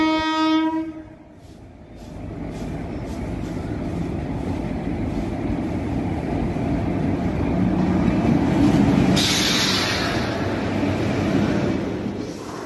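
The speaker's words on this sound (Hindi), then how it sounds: "ट्रेन भी आ रही है" A train approaches and rolls past a lowered railway level-crossing gate: a horn blast opens, then a loud, sustained rumble and rhythmic wheel clatter build and hold close by for several seconds.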